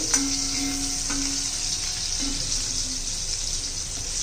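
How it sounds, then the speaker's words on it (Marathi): Garlic frying in oil for a spinach dish, a constant close sizzle with a few brief tonal squeaks, likely from a spatula, near the start. "लसणाचा कलर थोडा चेंज झाला पाहिजे. म्हणजे छान असा लसणाचा अर्क उतरतो तेलामध्ये"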